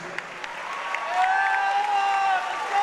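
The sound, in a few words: audience applause for fighters in boxing ring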